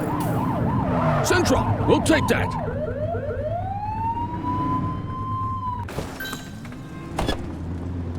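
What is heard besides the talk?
police car siren blip in video game The Precinct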